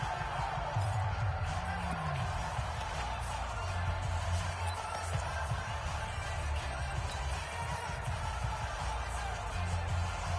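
Stadium crowd in the Madden American football game, a steady roaring murmur of fans that holds at an even level throughout, with commentary voices talking over it.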